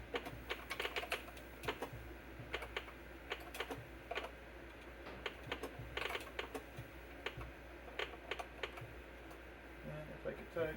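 Keys clatter on a DEC VT101 terminal keyboard in irregular bursts of close, clicky strokes over a steady low hum, with faint talk underneath.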